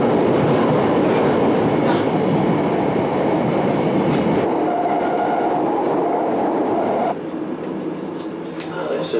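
Inside a train at the Heathrow Terminal 4 station in London, a loud, steady rumble of the railcar and machinery fills the space continuously, its tone shifting slightly and easing toward the end.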